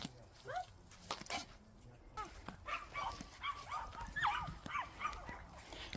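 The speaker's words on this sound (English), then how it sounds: "Oh dear, I've set all the dogs off." Several dogs at a caravan site bark, yip and whimper in overlapping bursts, fairly close, with a person's voice briefly in the mix.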